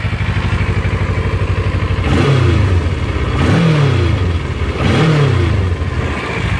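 A Kawasaki Versys motorcycle engine idles close by, then revs up three times in evenly spaced bursts, each rising sharply and falling back to idle.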